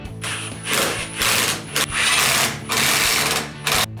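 Bracket nuts on a sled assembly are tightened with a ratcheting tool, producing loud, rapid clicking bursts separated by short pauses.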